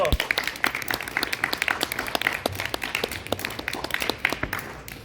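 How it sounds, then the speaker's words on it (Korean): An audience at an elementary school disability awareness session breaks into steady, dense applause, many hands clapping quickly and evenly throughout. "박수."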